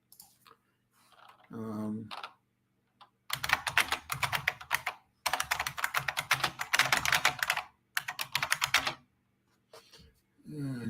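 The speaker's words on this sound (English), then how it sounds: "that's my keyboard" Rapid clattering keystrokes on a computer keyboard come in several close bursts with short pauses between them, with a voice speaking briefly at the start and end.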